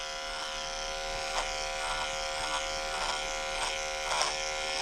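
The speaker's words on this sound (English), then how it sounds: "we're using a 7F blade with the 5-speed Excel and this clipper. Very powerful clipper." A 5-speed Excel electric dog clipper fitted with a 7F blade hums steadily while grooming a cockapoo, a constant close motor buzz with small bumps in pitch as the blade moves through the coat.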